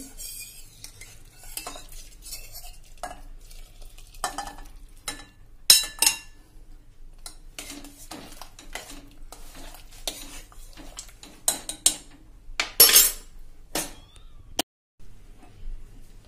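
Spoon scraping and clinking against a pressure cooker of sambar, stirring in irregular bursts with a few sharper metallic knocks, fairly close, no talking.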